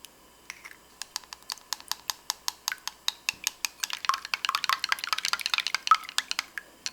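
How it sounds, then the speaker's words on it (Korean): Eggs are beaten in a bowl for the batter coating fried oysters, a run of crisp tapping strokes against the bowl that starts evenly and then speeds into dense, rapid clicking; no one talks. "튀김옷에 들어갈 달걀을 푼다"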